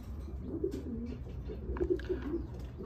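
Breeding pigeons give soft, low coos, a few short rolling calls scattered over a steady quiet background hum, faint and close, with no speech.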